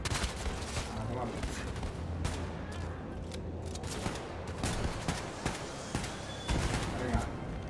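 Gunfire in the first-person shooter Wolfenstein II: The New Colossus, repeated sharp shots and impacts in an irregular rhythm over a loud noisy battle bed, with someone talking over the action.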